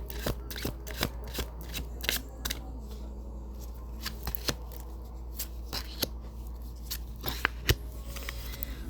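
A deck of tarot cards being shuffled by hand, a run of crisp riffling snaps and slides at close range, quiet between bursts, with no talking.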